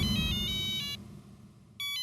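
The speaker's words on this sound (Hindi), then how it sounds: "बड़े मास्टर का फोन है।" A mobile phone ringtone plays a bright electronic melody in short bursts, pauses, then starts again, clear and fairly close with no talking.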